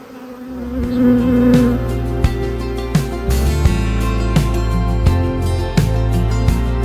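A dense, loud, steady drone of honey bees fills the air at an open hive being balanced to prevent swarming, with faint knocks and frame-handling clicks scattered through the buzz.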